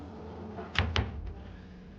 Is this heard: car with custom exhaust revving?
no